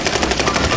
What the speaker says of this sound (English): I just emptied a whole mag into that guy.